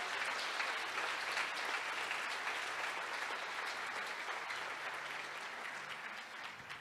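Church congregation applauding during a Pentecostal service, a steady sustained wash of clapping from many hands that fades slightly toward the end, with no voices over it.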